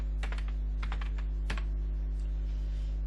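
Computer keyboard keys click in quick clusters as code is typed for a car racing game, close and fairly crisp over a steady low electrical hum, with no talking.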